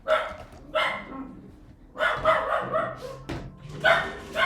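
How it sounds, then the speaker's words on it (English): Several dogs bark at home in sharp, loud bursts, a couple of quick yaps followed by a longer flurry of overlapping barks, close by and with no talk over them. "Let me make sure that they're not barking at AT&T."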